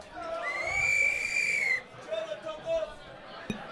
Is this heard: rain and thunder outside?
no